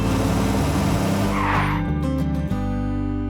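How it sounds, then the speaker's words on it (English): Cartoon sound effect of a giant toy car rolling, a loud continuous whooshing rumble with a skidding, tire-squeal quality that swells then cuts off abruptly, with no talking. "they spotted a giant toy car rolling toward them"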